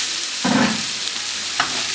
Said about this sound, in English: While cooking and frying the rice